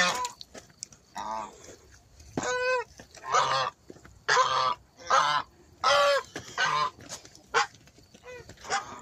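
Toulouse and Guinea geese honk loudly and close at a breeding farm in repeated bursts of harsh calls, separated by short pauses, with faint background noise between.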